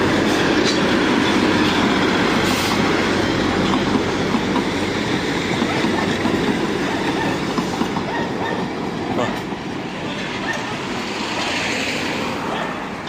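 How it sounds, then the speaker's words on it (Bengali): A diesel-engine Darjeeling toy train rumbles past up close with a steady loud roar and rattling wheels on the narrow-gauge track, fading slightly toward the end. "ও এটা ডিজেল ইঞ্জিন, এটা ডিজেল ইঞ্জিনের টয় ট্রেন এটা"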